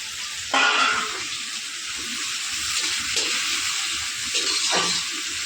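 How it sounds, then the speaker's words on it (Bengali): Onions dropped into hot oil with browned garam masala for mutton biryani hiss and sizzle steadily at close range, with a louder burst as they hit the pan and faint clinks of stirring. "গরম মশলা লাল হয়ে গেছে এবার পেঁয়াজ দিয়ে দিচ্ছি"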